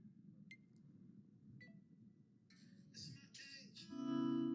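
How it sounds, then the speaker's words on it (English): A phone camera timer on a three-second countdown gives a few short sharp clicks, then a louder burst of beeping tones at the end, over a low background hum. "So it'll go click, click, click."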